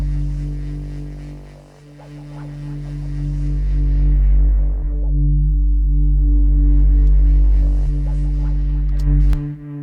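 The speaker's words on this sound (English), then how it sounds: "I did this section at the end where I looped and filtered with the bass" Bass-heavy electronic music ending section, a looped bass figure under a filter that sweeps the upper range closed and then open again, with a steady low pulse throughout and no voices.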